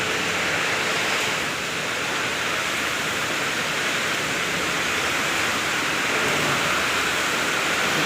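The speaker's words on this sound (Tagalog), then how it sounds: "ang kapal-kapal ng ulan." Heavy rain pours steadily in Hong Kong, a dense, unbroken hiss that stays constant and loud throughout, with no voices.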